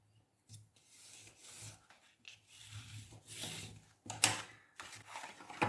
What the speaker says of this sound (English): Go and burnish that in place.